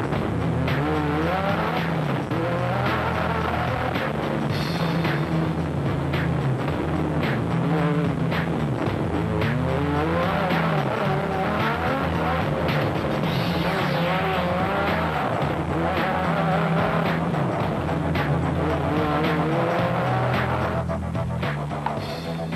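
Rally race cars, including a Toyota, tear along a stage of the 2008 Limpopo 400, engines howling continuously as revs rise and fall through gear changes, loud and close with no break in the roar.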